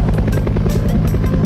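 A firefighting helicopter at a construction site, its rotor beating in a steady, loud rapid chop from start to finish.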